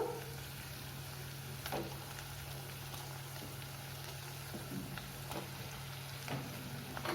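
Eggs frying in a pan with ginger garlic paste, onions and chillies, a steady close sizzle with a low hum underneath and a few soft scraping stirs.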